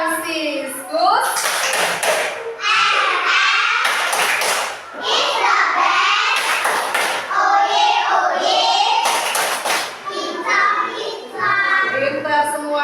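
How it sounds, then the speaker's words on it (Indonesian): A class of schoolchildren performs a clapping chant, voices chanting together in rhythm while repeated sharp bursts of group hand-clapping punctuate the chant, close and loud. "Kita semuanya tepuk Fransiskus."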